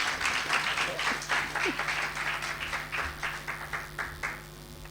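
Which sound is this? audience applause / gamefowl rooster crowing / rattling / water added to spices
audience applause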